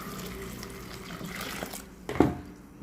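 Hot water is poured into a pot of spiced fish curry with chopped green chilli and onion, a soft running splash under faint kitchen background that ends in a brief louder slosh.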